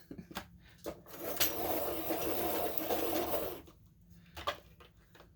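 A pencil sharpener grinds a Prismacolor colored pencil in a steady whirring burst lasting about two seconds, framed by a few clicks and taps before and after.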